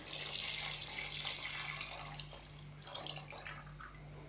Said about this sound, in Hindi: तो अब मैं इसके अंदर शामिल करूँगा 7 से 8 गिलास पानी के